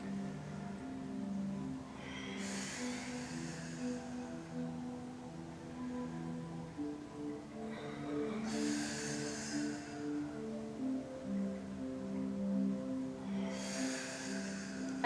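Slow, deep yoga breaths during a chair and mat session, three long airy inhale-exhale swells spaced several seconds apart over soft background music, fairly faint.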